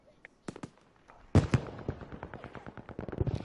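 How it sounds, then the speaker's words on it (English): Rapid bursts of gunfire crackle through a competitive video game match, sharp shots clustering into dense volleys that grow busier and louder toward the end. "Tech 9 is trying to hold on with a lot of gunfire here."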